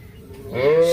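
A single low moo from a Sahiwal calf swells up near the end, close and fairly loud over quiet background noise.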